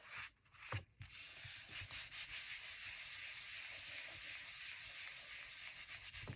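Hands rubbing glued paper flat inside an accordion multi-pocket paper journal, a steady close dry rubbing scrape with a couple of light taps at the start.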